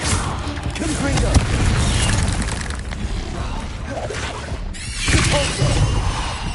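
In Hogwarts Legacy, a Confringo fire spell blasts with a sharp explosive crack and a heavy boom, set within a dense, noisy mix of combat effects and rumbling game sounds.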